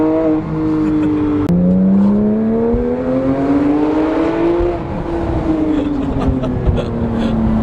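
A BMW car engine revs loudly and close, its pitch climbing and dipping through a long sustained run, with a sharp click early on.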